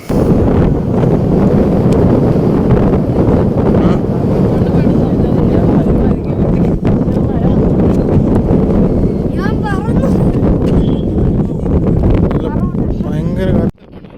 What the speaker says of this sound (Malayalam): കാറ്റ് നല്ല രീതിയിൽ നമ്മളെ എതിരെ അടിച്ചു വരുന്നുണ്ട്